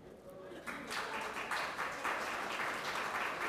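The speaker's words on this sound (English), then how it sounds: "I wonder where they clap." Audience applause at a West Bay West candidates forum, a steady wash of many hands clapping that builds after a quiet start and holds fairly even throughout.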